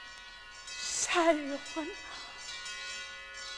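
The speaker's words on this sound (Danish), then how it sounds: "Hvad betyder disse klokker?" Church bells ring out in celebration of a victory, a dense sustained peal in the background while someone shouts excitedly over them.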